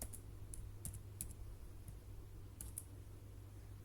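Soft keystrokes tap on a computer keyboard in a quiet room, a handful of faint scattered clicks over low steady hum with no talking.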